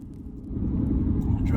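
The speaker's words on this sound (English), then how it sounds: "Driving into Death Valley." A car drives into Death Valley, its engine a steady low rumble from inside the cabin, growing slightly louder as a voice speaks over it.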